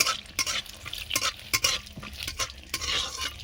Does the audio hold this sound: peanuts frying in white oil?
yes